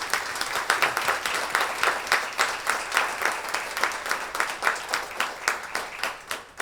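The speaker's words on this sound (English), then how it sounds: "let's give her another round of applause" An audience claps together at a speech-language pathology assistant program pinning ceremony, a moderately loud, evenly pulsing round of applause with distinct individual claps that holds steady from start to finish.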